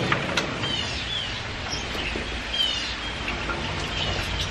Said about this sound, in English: Obviously the birds are very vocal.